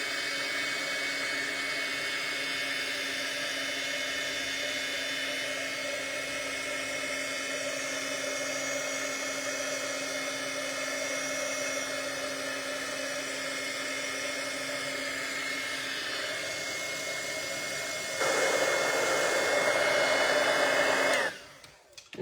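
A heat tool runs steadily to dry watercolor on a crafting card, a loud continuous blowing whoosh that shifts pitch slightly near the end before cutting off abruptly.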